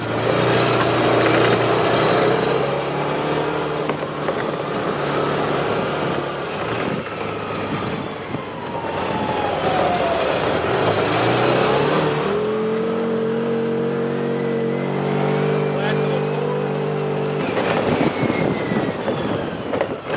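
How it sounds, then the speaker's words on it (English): A car engine revs hard while the inside tire spins, a loud, sustained roar that rises and falls through several pulls, with wind buffeting the microphone. "Spinning that inside tire."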